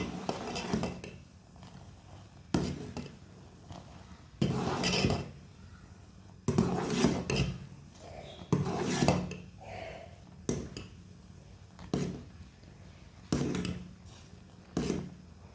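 Tea is whisked in a pot as it cooks on the stove, the whisk scraping and clinking against the metal in rhythmic bursts separated by short pauses.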